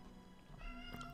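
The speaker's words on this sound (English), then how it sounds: "There's my cat sharing the song of his people" A pet cat meows during a submarine game session, a short tonal call rising over steady low background hum and game ambience, moderately loud and close.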